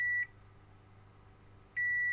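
A continuity tester sounds a steady electronic beep when touched to a circuit board test point, then goes quiet and beeps again as contact is made once more, with a faint hum between the tones.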